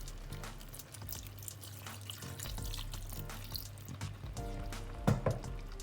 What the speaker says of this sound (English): When that is done, I would add just a little water to cook it.